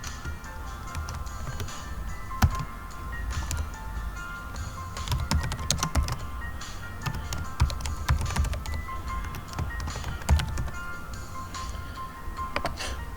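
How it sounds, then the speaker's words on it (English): Data is typed into Excel on a computer keyboard with steady, close key clicks and occasional louder taps, running continuously over a low background hum. "Now, let's say for instance, I type in a data."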